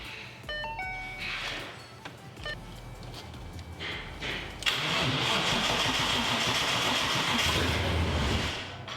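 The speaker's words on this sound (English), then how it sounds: "That is such an awesome sound to hear it starting up again." A 1965 Ford Cobra kit car engine cranks with a few ticking clicks, then catches and settles into a steady, rumbling idle, close by.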